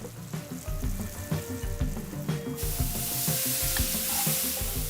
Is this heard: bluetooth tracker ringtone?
no